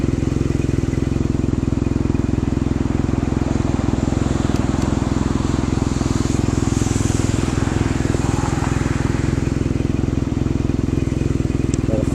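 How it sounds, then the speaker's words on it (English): A scooter ridden at night, its engine a steady, loud low drone that runs without break, with wind rush and some road noise over it. "Obviously, I'm on a scooter, so I'll wave at anybody."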